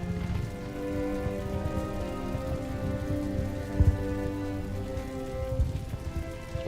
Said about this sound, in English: And it's a rainy day. Wonderful. Wonderful rainy battle.